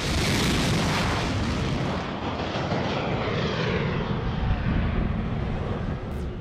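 An XQ-58 Valkyrie, a long-range high-subsonic strike drone, roars past in flight with a loud, broad jet rush that holds steady throughout, with no voices.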